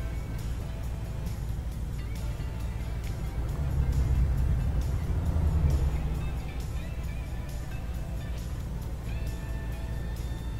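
A bus drives along a road, its low engine rumble and road noise steady from inside the vehicle, swelling briefly midway, with people talking over it.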